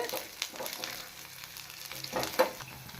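Onions frying in a pan for a village-style mutton sambar, a steady close sizzle with intermittent stirring scrapes, louder near the end, no speech.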